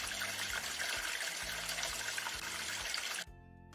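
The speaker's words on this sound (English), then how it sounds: "Shower to clear shampoo." Shower water streams steadily while shampoo is rinsed out, a close hissing spray with faint pulsing underneath that cuts off abruptly near the end.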